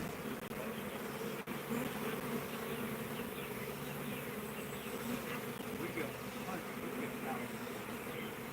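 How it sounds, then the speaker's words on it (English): A swarm of honeybees hums in a steady, dense buzz close to the microphone, with a brief thump early on and no clear talk. "Yeah, I don't like seeing them swarm like this"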